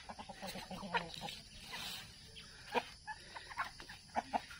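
Several chickens cluck softly in short, irregular bursts close by, with light rustling between the calls.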